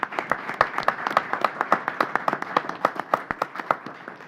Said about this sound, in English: So I just want to publicly recognize you and give you a round of applause.